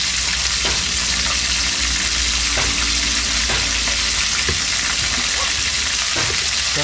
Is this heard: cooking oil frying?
yes